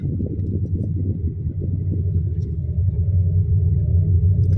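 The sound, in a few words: buses driving on a hill road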